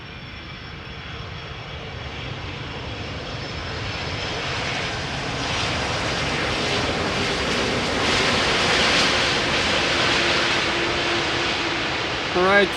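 An Airbus A330 jet airliner's engines roar steadily, swelling louder over several seconds as it takes off at Amsterdam Schiphol Airport, with a broad rushing noise throughout.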